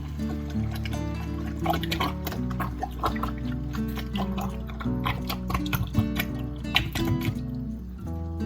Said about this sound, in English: I'm gonna pour my tomatoes in.